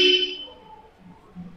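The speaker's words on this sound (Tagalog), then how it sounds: "Tapos testingin natin yung busina." A Bosch Europa horn just installed on a Toyota Vios sounds in one short, loud blast that quickly cuts off, followed by low background noise.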